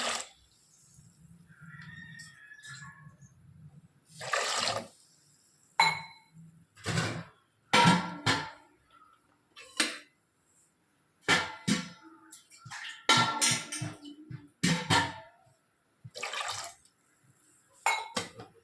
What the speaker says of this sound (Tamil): கால் லிட்ரு தண்ணி ஊற்றிக்கணும்